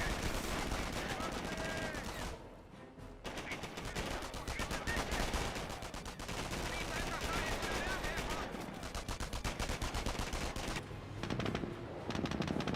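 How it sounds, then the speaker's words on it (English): Sniper shots and MG42 machine gun bursts in the Company of Heroes strategy game, dense and continuous rattling gunfire with brief lulls, loud throughout and mixed with a commentator's voice. "Sniper firing away. MG42 here."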